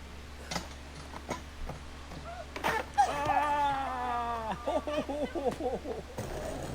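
A dog whimpers close by, first with a long, falling whine, then with a few shorter, broken whimpers. Faint ticking sounds in the background.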